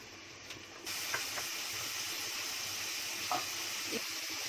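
Two finely chopped medium onions hit hot oil in a pan, setting off a sudden, loud, close sizzle that then continues as a steady, crackling hiss with no talking.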